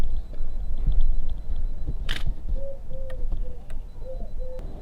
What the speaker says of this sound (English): a command over to trigger the shutter